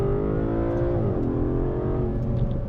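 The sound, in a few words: sports car engine upshifting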